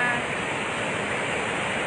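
Floodwater roars out of Magat Dam in the Cagayan–Isabela area, fully open and releasing hard: a steady, loud, broadband rush with no break across the whole stretch.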